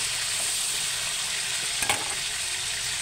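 Potatoes frying in hot oil give a steady, dense sizzle throughout, close and fairly loud, with a brief clatter near the end.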